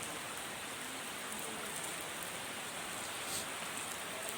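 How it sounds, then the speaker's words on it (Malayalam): Monsoon rain falls steadily in Kerala, a dense even hiss of drops on surfaces that holds unchanged throughout, fairly faint and with no voices. "ശക്തമായ മഴയാണ് പെയ്തുകൊണ്ടിരിക്കുന്നത്"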